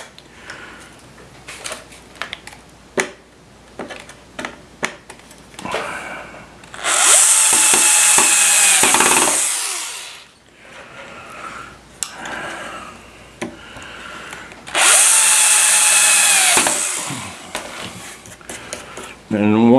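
A power drill drives screws while mounting magnets, two long loud whirring bursts a few seconds apart, with a person talking between them and scattered knocks and handling sounds.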